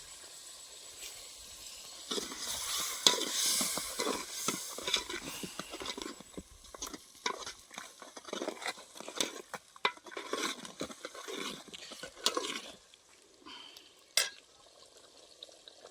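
Vegetables being stirred in a pot for an outdoor mutton feast on a farm: repeated scraping and clinking of a spoon against metal with light sizzling, irregular strokes at close range and no talk.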